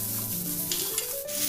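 Onions hit hot coconut oil with mustard seeds, giving a short close sizzle with light stirring, no voices.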